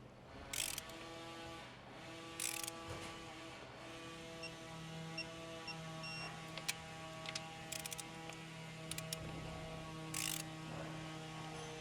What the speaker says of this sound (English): I love digital torque wrenches, this is awesome.